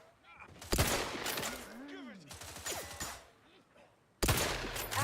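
Bursts of weapon fire in The Outer Worlds 2 video game, loud cracks mixed with synthetic whooshing effects and a computerized voice, ending with another heavy burst.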